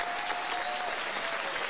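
A crowd at a combat-sports fight night applauds both fighters, a dense, steady burst of clapping with a faint tone running underneath.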